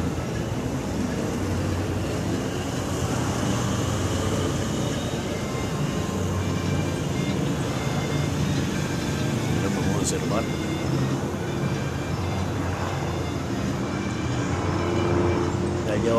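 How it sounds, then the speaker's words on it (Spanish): The police helicopter Halcón 1 patrols overhead above the Siloé neighborhood, a steady low rumbling drone that runs throughout beneath a speaking voice. "Patrullajes del nuevo helicóptero de la policía conocido como el Halcón 1"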